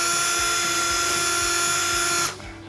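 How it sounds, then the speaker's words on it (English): A high-pitched drill with a 1/4-inch bit whines steadily and loudly at close range, enlarging a hole in a Jeep Gladiator fog light bracket, then cuts off and winds down near the end. "You'll wanna take a 1/4-inch drill bit"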